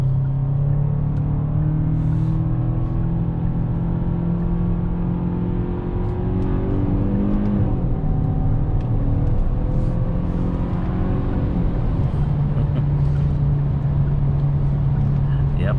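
2021 Genesis G80 in sport mode, its synthesized engine sound played through the cabin speakers, a steady droning hum with rising and falling tones heard from inside the car, continuous and fairly loud.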